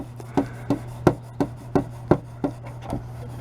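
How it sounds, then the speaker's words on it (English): 3000-grit 3M wet or dry sandpaper rubbed over fine scratches on a car taillight lens, making about ten short, evenly spaced scraping strokes up close, with no talk. "I'm going to take some 3000 grit 3M wet or dry sandpaper"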